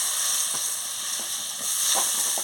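Eggplant dropped into a hot pan already holding turmeric and water, giving a close, steady hiss of steam with a few soft bumps and clatters of the pieces going in.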